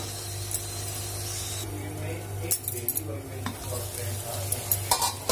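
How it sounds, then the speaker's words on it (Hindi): Paneer bhurji frying in a pan, with a low steady sizzle under scattered clinks and scrapes of a spoon stirring against the pan; close, moderate level, with brief faint voice. "थोड़ा इसको फ्राई करने देंगे, थोड़ा फ्राई हो जाएगा"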